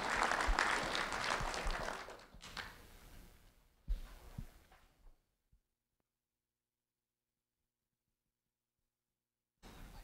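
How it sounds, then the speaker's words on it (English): An audience applauds two honored elementary students, Ronnie and Ariella, at a community recognition event in Fort Myers; steady clapping fills the first five seconds, fades to silence, then briefly resumes at the end. "A round of applause for Ronnie and Ariella, please."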